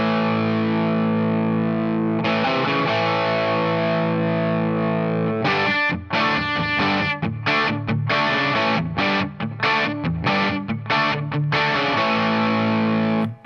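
Distorted electric guitar plays a bluesy intro figure, starting with sustained chords, then breaking into a busier, choppy riff with repeated stabs, loud and alone with no talk.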